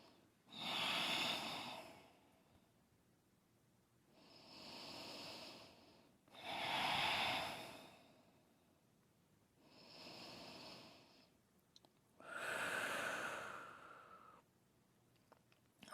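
Slow, deep breathing during a yoga forward fold: about five long breath cycles, each a soft, airy rush lasting a second or two, close and quiet, separated by near silence.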